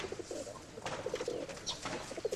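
Pigeons cooing at a bird show, a steady run of soft low coos with chirpy accents, amid a busy hall murmur and scattered clatter; several birds close by.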